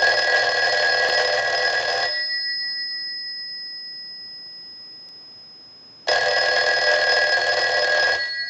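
A Western Electric 302 rotary telephone rings in two long electronic bursts, each about two seconds, separated by a long silent pause, loud and close with no talking.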